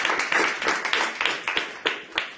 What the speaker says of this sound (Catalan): Un aplaudiment final.